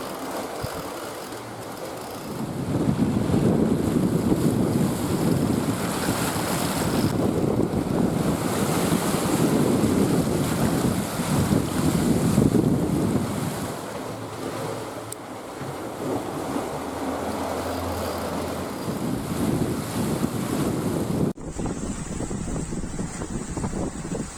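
A sailing boat moving fast at 7 to 8 knots across the Bay of Biscay. Steady rushing waves and surf mix with loud wind buffeting the microphone, continuous and close, with a sudden change in tone near the end.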